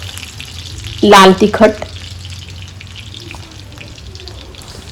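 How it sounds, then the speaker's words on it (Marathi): Garlic pieces sauté in hot oil in a pan for dill (shepu) bhaji, a steady low sizzle running throughout, with a short spoken phrase near the start. "हे सर्व मी आता चांगले परतवून घेणार आहे"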